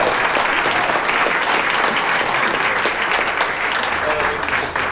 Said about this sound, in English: can we have a round of applause for these wonderful students?